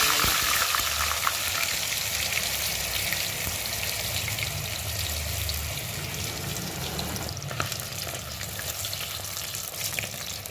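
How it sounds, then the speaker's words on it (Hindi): Tilapia fish frying in hot oil, a steady loud sizzle and crackle running throughout with slight bubbling bursts, no voices. "ऑयल गर्म हो चुका है, अब हम इसमें फ़िश डालते हैं।"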